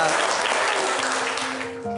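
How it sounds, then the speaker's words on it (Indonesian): Applause from an audience at an Islamic religious gathering at a boarding school, a dense steady clatter of many hands that fades slightly toward the end, with faint voices beneath. "Tepuk tangan dong"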